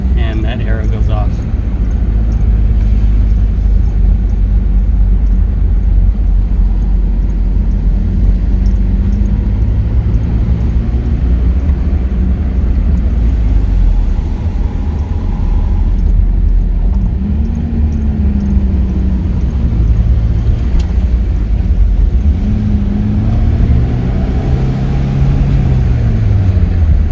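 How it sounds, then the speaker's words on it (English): A 1986 Honda Civic CRX HF drives along, its small engine giving a low, steady rumble with faint shifts in pitch as it pulls. The hum stays loud and close throughout, and someone talks over it now and then. "This little car is driving great,"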